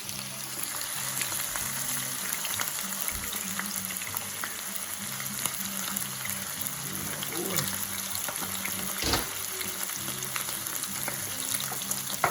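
Chicken pieces browning in hot oil for a honey mustard dish give a steady, close crackling sizzle that runs unbroken throughout, with a few faint clinks and stirs along the way.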